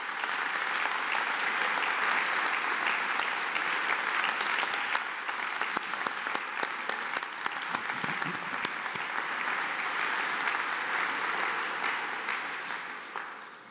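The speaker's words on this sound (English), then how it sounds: "please, let's give Daniel a round of applause." An audience at a boys' school prize-giving speech day applauds steadily for about thirteen seconds, a dense sustained clapping that tapers off only at the very end.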